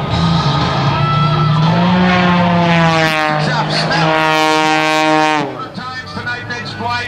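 An aerobatic airshow plane makes a low pass with its wheels just above the ground in front of the crowd. A loud engine drone rises and falls in pitch as it sweeps by, and a commentator talks over it.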